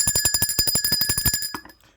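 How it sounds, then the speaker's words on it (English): A bright metallic bell rung rapidly about a dozen times in an even trill, close and loud, then stopping and fading into a short ringing decay with no voices. "Let's ring the bell of enlightenment for that."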